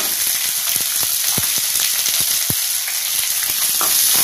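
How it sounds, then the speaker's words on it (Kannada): Onions sizzle and fry steadily in a hot pan of oil with golden-browned chana dal, for a ladies finger (okra) palya, with scattered stirring clicks from a spatula; close, continuous and loud, with no talking. "ಈರುಳ್ಳಿ ಸ್ವಲ್ಪ ಚೆನ್ನಾಗಿ ಫ್ರೈ ಆಗ್ಬೇಕು"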